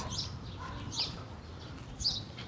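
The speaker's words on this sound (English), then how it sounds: "As I say, you can hear the birds." Three high bird chirps spaced about a second apart over a faint outdoor hum, moderately distant, on Henry Street in Brooklyn, New York City.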